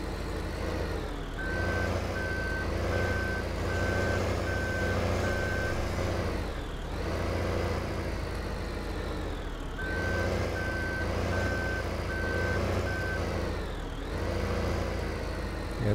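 A truck in the video game Farming Simulator 2015 gives off steady, repeating reversing beeps in two long runs over a continuous engine rumble, with no talking.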